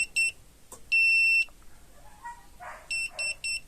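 Dnipro-M automatic multimeter's hidden wiring detector emitting sharp, high electronic beeps, one short, one longer, then a quick run of three, with faint handling noises between them.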